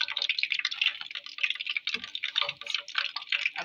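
Filled dahi bhalla lentil dumplings being lowered into a bowl of water produce a quick run of light, close drips and small splashes, irregular and continuous, with no talk over them.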